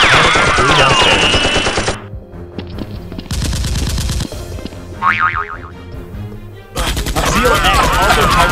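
Nerf guns firing with added gunshot and machine-gun sound effects during a staged police SWAT versus robbers Nerf battle, loud bursts mixed with bouncy boing effects and electronic tones that cut in and out.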